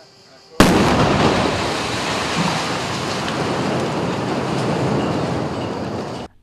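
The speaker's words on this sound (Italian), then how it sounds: "questa spettacolare esplosione ha fatto brillare il cavalca ferrovia di Ripafratta" Controlled demolition blast bringing down a railway overpass at Ripafratta on the Pisa-Lucca line: a sudden loud boom that opens into sustained roaring rumble and debris noise lasting several seconds, with no voices.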